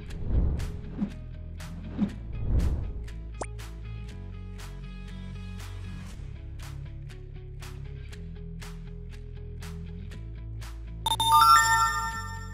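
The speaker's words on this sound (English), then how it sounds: "here is our notification" A short, bright Android app notification chime sounds once near the end, following quiet soft clicks and taps against a low background.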